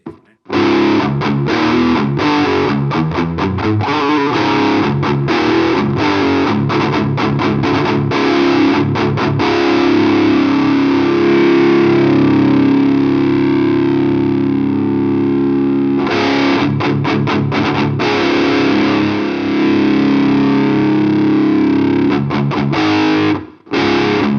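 A heavily distorted electric guitar plays loud, buzzing chords and riffs through an HM2-style distortion pedal run at 12 volts, with brief choppy pauses, near and sustained.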